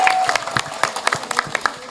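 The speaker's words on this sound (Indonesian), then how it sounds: "Tepuk tangan untuk kita semuanya." Audience applause at a birthday celebration on stage, scattered claps from a crowd, brief and somewhat uneven, with a faint tone at the start.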